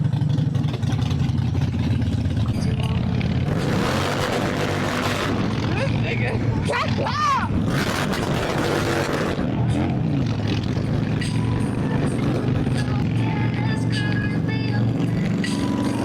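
A car that has just had a new clutch installed rumbles steadily as it sets off, with its engine droning close by while voices talk over it.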